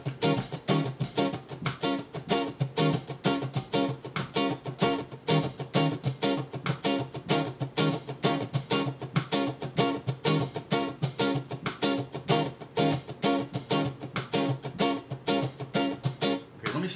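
Electric guitar strums a steady rhythmic groove, loud and close, with regular strokes running through the whole passage alongside a metronome-style click keeping time; no voices.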